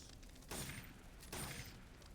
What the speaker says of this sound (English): Fires pretty quickly.